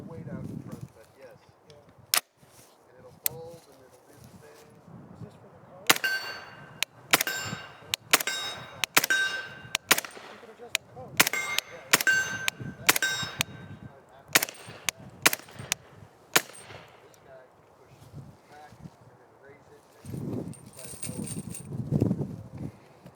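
A suppressed subsonic 300 Blackout SIG MCX Virtus with a 9-inch barrel fires into a Caldwell brass catcher, a string of sharp, muffled cracks in quick irregular succession, bracketed by quiet talking before and after.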